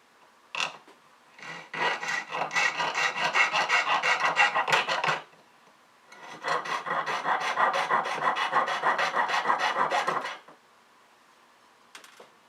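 Wire coils being cut into split rings for a Byzantine rose chain, a close rasping saw stroke repeated rapidly in two long bursts separated by a short pause, with a faint tap at the end.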